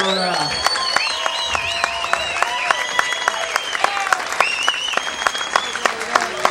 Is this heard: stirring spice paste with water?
no